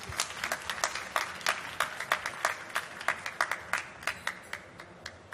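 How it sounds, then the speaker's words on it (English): Applause at a consumer tech startup pitch event, a modest group clapping with distinct individual claps audible in a loose, uneven rhythm, fairly close and continuing for several seconds. "Big applause."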